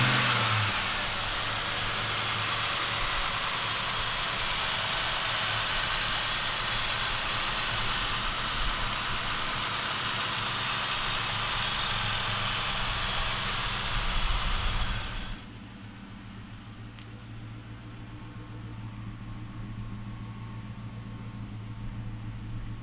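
A 2004 Ford Mustang SVT Cobra engine fires up and revs hard, loud and close with a broad roar, then drops abruptly after about fifteen seconds to a quieter idle.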